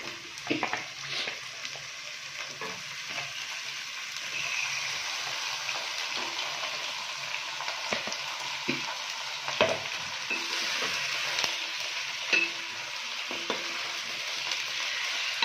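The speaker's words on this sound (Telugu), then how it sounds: "ఫస్ట్ మనము హైలోనే పెట్టి నేను ఫ్రై చేస్తున్నాము చికెన్ని." Chicken pieces frying in hot oil over high heat, a steady loud sizzle with crackling pops running throughout, close up and alone with no talking.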